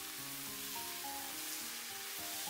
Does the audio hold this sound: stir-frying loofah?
yes